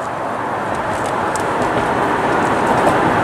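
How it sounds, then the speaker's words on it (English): Car tire rubbing against the body while driving on a road in Arizona, a steady broad rushing roar with continuous road noise throughout, close and fairly loud, no clear separate scrape bursts. "It sounds like my tire's rubbing a lot."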